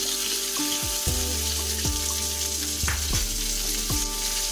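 Tempering spices sizzle and crackle steadily in hot oil in a tadka pan for Rajasthani veg dal, a close, continuous frying hiss with a low hum and occasional clinks.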